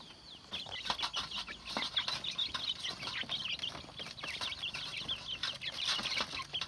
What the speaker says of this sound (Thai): ไก่ที่เฮาเอามาเลี้ยงอยู่นี่